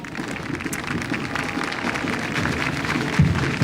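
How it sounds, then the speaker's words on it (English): Crowd lining an inaugural bands parade at EPCOT Center claps and cheers, a moderate, uneven patter of applause spread out in the open air, with a sharp knock near the end. "some of the applause, people showing how well they like this parade this afternoon"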